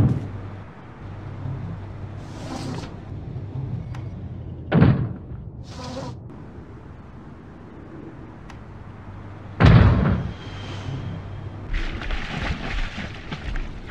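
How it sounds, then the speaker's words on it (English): Heavy blows against a door in The Longest Journey as it is broken down: a few loud, isolated thuds and crashes spaced several seconds apart over a low game ambience, with no talk. "If you don't open, we'll break down the door."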